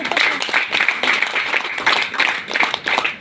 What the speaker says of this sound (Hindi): सबसे पहले उनके लिए ज़ोरदार तालियां बजाएं